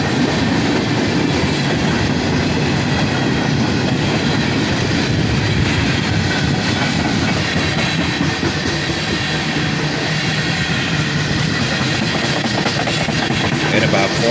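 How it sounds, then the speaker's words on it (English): A long CSX freight of empty coil shield cars with no covers rolls by, a loud continuous rumble with clanking wheels and squealing steel close at hand. "Here we have a big cut of empty coil shield cars with no covers."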